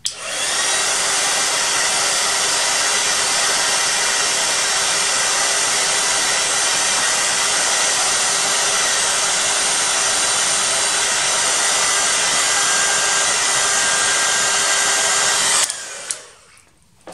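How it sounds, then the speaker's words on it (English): A heat gun blowing hot air to warm polymer stamp gel, a loud, steady, close whir that runs for about sixteen seconds before switching off. "So I'm going to get my heat gun again and warm it up slightly."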